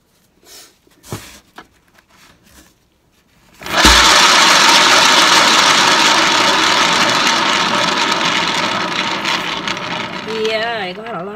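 A spin-painting machine whirs up for acrylic paint on canvas: after a few quiet knocks, a loud steady motor hum starts abruptly and runs continuously for several seconds.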